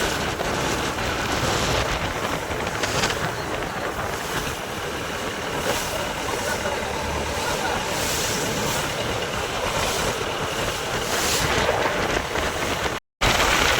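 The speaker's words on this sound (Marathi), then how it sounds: "गाईज तुम्ही बघू शकता वारा बघा किती आहे इथं" Strong wind roars steadily against the microphone in a dense, rumbling wash for a long stretch, with a brief cut near the end.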